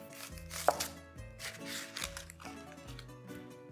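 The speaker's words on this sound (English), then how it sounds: "So I'm just gonna cut it in half and then into thin slices" A knife cuts an onion in half and then into thin half-moon slices, giving a few crisp, close chops over a soft tonal background with no talking.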